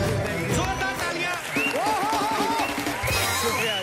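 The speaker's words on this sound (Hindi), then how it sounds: "जोरदार तालियां।" Studio audience on a Hindi comedy talk show clapping to welcome a guest, loud applause mixed with music and voices, with sung or spoken tones riding over the clapping throughout.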